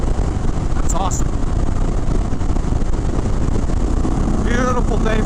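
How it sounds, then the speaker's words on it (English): An Indian Chief Sport V-twin motorcycle on the move, its deep engine drone blending with heavy wind rush throughout, with brief faint tonal chirps in the background. "this bike rips. It's got torque right off the line, like you'd expect from a huge V-twin."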